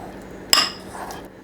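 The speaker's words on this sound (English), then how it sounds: "Soften by mashing with a fork." A metal fork mashes a knob of butter to soften it for garlic bread, giving one sharp clink against the dish with a faint scrape trailing after.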